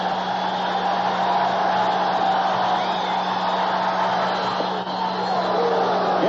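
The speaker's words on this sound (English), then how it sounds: "Crowd yelling again for him." A baseball stadium crowd yelling at a 1986 Mariners at Red Sox game at Boston, a broad, steady roar of many voices that holds loud and unbroken throughout.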